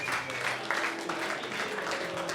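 Live show audience breaks into applause, a dense wash of clapping from a crowd with a hum of voices underneath, brief and steady.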